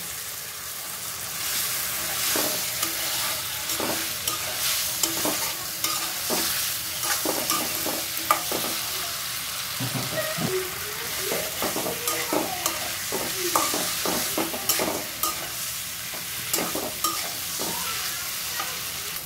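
Fried potato and pointed gourd being stirred into a spice masala in a frying pan: continuous close sizzle with busy, rhythmic scraping and clattering of a spoon that grows denser midway.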